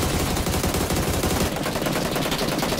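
Gunfire from the SLR rifle in the video game PUBG on Erangel: dense, continuous loud shooting noise with rapid repeated reports, close and saturating the whole stretch.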